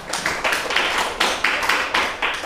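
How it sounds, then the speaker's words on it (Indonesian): Scattered clapping from a small audience after a second group presentation, several distinct bursts of claps coming in an uneven rhythm at moderate volume, with no talk over it. "Beri tepuk tangan untuk penampilan yang kedua."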